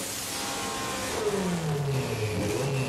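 A turbocharged Subaru car revs on a dyno, its engine note climbing in steady rising sweeps from a lower drone into a louder whining rev, heard up close without voices.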